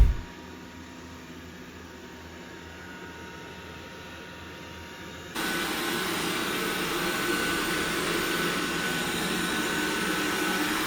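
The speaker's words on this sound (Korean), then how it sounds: "진공 청소할 때의 소음은 그렇게 작은 느낌은 아닌데 그냥 뭐 일반적인 다른 로봇 청소기들과 비슷한 수준입니다" A robot vacuum cleaner running in vacuum mode gives a steady broadband whooshing hum that grows noticeably louder about halfway through, presumably as suction power steps up, then continues evenly to the end.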